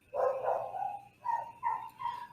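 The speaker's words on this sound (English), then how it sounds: "And my dog is now going crazy." A dog barks several times, a long first bark followed by three shorter ones, moderately close but not loud, with no talking over it.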